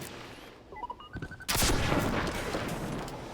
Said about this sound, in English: And I'll just rocket it.